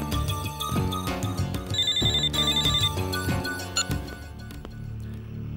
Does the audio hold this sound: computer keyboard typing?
no